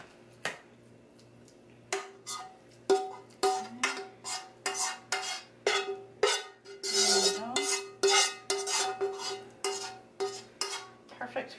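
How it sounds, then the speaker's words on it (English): A thick broccoli and cheese casserole mixture is mushed and pressed around a pan with a utensil, giving a steady run of soft, close scraping and tapping strokes that come in regular pulses with no talking. "So you can just kind of mush it around."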